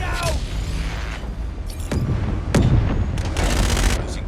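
Airstrike explosions in Call of Duty Mobile on the Shipment map, with loud booms and bursts of gunfire in quick succession over a dense, continuous battle din.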